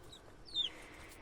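A mini hen brooding on a clutch of 28 eggs deep in a nest hole gives a single brief, soft cluck, faint and close amid near-silence.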